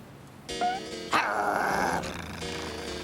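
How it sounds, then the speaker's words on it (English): Cartoon dogs bark and growl loudly nearby in a children's animated show set in a park, a short burst of rough canine noise over a quiet background. "Dogs! I hate dogs!"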